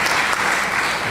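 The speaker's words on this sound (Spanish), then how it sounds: "Un aplauso." Applause from a university audience greeting invited guests at a talk, steady dense clapping filling the hall throughout.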